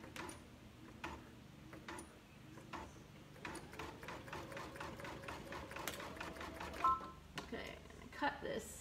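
An embroidery machine backing up a couple of stitches while making sibling shirts, with a run of quick, close, rhythmic mechanical ticks and clicks that speeds into a steady stitching patter.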